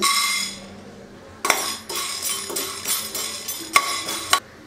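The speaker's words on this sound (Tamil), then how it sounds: "மிளகை ஒரு நிமிஷம் நல்லா வறுத்துக்கலாம்" Whole peppercorns, cinnamon and cloves dry-roasting in a hot kadai, with a steady rattle and clink as a spoon stirs them, sharp scraping strikes recurring through the second half, close and fairly loud.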